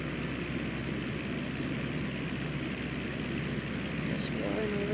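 In Microsoft Flight Simulator 2020, a Cessna 172 propeller engine drones in a steady, even hum through a late-afternoon approach to landing, with a brief chirp near the end.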